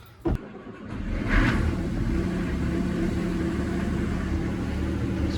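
A repaired boat engine turns over after a sharp click and catches, then settles into a steady, moderately loud running rumble.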